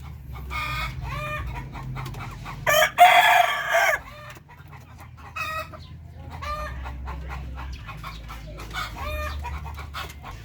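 Darag native chicken breeders on a farm give off repeated clucks and a loud rooster crow partway through, close by, over a low steady background hum.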